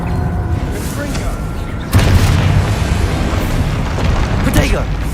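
The Confringo spell in a video game sets off a deep boom partway through, over a rumbling background with a voice speaking.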